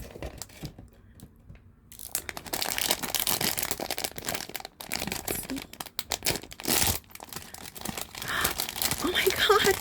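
Crinkly plastic and foil packaging being torn open and crumpled while unboxing a Skullpanda blind box, a near, continuous crackle and rustle that grows busier toward the end, with a voice speaking over it.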